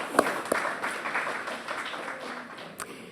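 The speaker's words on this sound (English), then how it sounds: "I just would like you to give him some applause" Audience applause at a medical talk on colon and rectal cancer, a modest scattering of hands clapping that starts with a few sharp claps and then thins out, fairly faint and with no speech over it.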